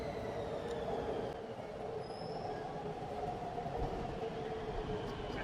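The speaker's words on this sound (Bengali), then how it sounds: "এটা হলো মেট্রো স্টেশন, আমরা ওয়েট করতেছি ট্রেনের জন্য।" A metro train pulls into a Bangkok station platform with a steady rumble and a brief high wheel squeal over the roar, loud and continuous throughout.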